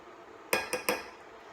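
A spoon knocks cocoa powder into a mixing bowl for no-bake cookies, giving three quick clinks in a row, close and fairly faint, with no talking.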